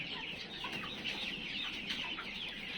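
Tiger chickens cluck and chatter steadily together, a busy flock close by with overlapping calls and no pause throughout.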